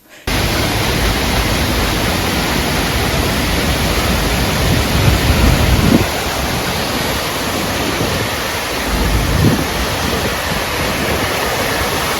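Forest floodwater pours as a waterfall at the entrance of a 1,100-metre road tunnel, making a loud, constant roaring rush with no letup and no voices.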